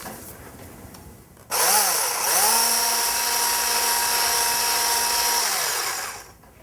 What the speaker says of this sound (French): on va les fouetter énergiquement. Je vous conseille quand même à l'aide d'un fouet électrique